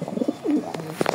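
A male racing pigeon, a light-coloured grizzle cock bred in 2024, coos a few soft throaty rolling notes close by, with no other sound around it.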